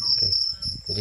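A cricket chirps steadily from a sound imitation game app, a continuous high trill playing under brief speech.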